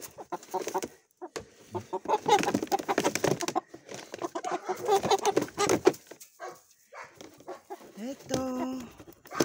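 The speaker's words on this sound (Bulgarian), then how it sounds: "Мисля даже, че това са два петела" Chickens clucking in busy, overlapping bursts nearby, with a rooster's crow-like call rising near the end amid scattered bird noise.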